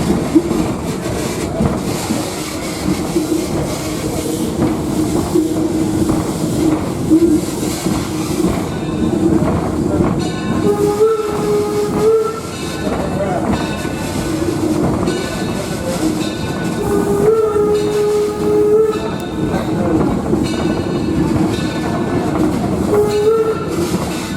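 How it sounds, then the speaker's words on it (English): Torch Lake No. 3, a coal-fired steam locomotive at Greenfield Village, hauls its train in a steady loud rumble with rhythmic clickety-clack of wheels and occasional high squeals or whistle tones, heard from on board throughout. "It's also one of 3 coal-fired steam power locomotives that operate the trains here on the Greenfield Village."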